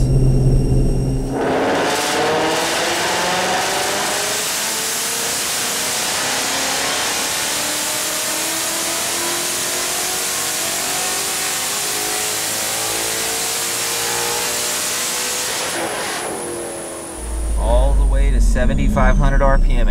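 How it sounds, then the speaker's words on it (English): A Ford Mustang with a Coyote V8, fitted with a cold air intake and test manifold, revs up hard on a dyno to about 7,500 RPM, a loud sustained wail climbing steadily for over ten seconds before cutting off abruptly. "We're gonna make a hit and see how it does."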